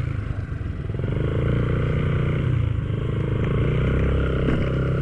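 A motorcycle engine runs at a steady, close idle-to-cruise drone, low and continuous throughout with no voices.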